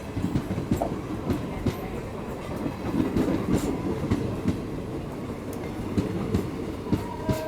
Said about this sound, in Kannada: ತಿರುಪತಿ ಔರಂಗಾಬಾದ್ ಎಕ್ಸ್ಪ್ರೆಸ್